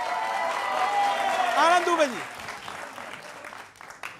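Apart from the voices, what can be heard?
studio audience applause welcoming a guest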